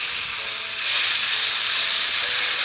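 Finely chopped onion sizzles in a pan while frying for paneer pickle, a steady, bright hiss that grows slightly louder after the first second and holds close and even.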